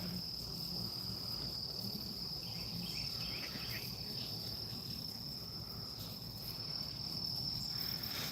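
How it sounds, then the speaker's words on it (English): Dense swarm of honeybees at an open hive during an inspection, a steady continuous buzzing drone with no voices, held at an even level throughout. "Look at all them bees."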